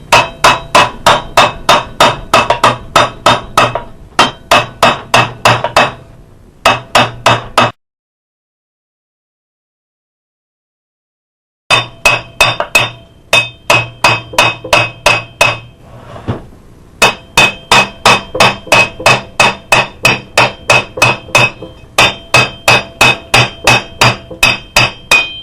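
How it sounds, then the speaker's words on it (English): A hammer taps repeatedly on the square end of a seized pulley shaft, sharp metallic strikes in quick rhythmic bursts, close and loud, with a few seconds of silence in the middle before the tapping resumes. "I've been just rotating, tapping it with this hammer on the square end."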